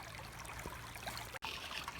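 Water trickles and gurgles through a gold sluice set in a stream, a close, steady babbling flow with small splashes and a brief dropout partway through.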